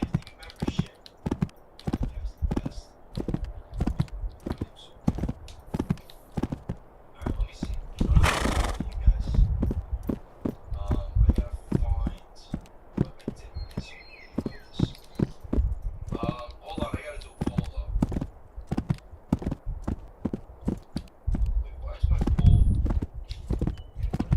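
Rapid rhythmic hoofbeats of a galloping horse in the video game Gloria Victis, with a horse neighing partway through and a voice talking over the pounding.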